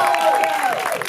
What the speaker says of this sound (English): let's give a round of applause for Omari Hardwick